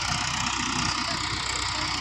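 An outdoor tractor engine runs steadily at a low, constant chug, with a dense broadband rumble and no voices over it.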